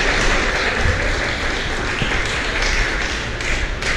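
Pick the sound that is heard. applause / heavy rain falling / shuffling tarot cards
applause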